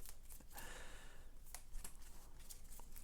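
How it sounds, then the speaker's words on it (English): Turn order cards for the board game Aeon's End are shuffled in a few quiet, close rustling swipes and light snaps, with a longer papery slide early on. "I guess it would help if we shuffled all the turn order cards in there."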